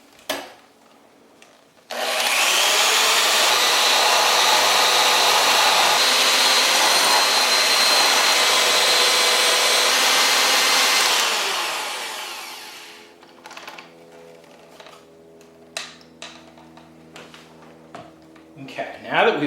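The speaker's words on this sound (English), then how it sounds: "we're going to use our mixer to make them fluffy" An electric mixer whips egg whites in a large bowl for æbleskiver batter, a loud steady whirring drone of about ten seconds that winds down, followed by scattered clinks and handling noises.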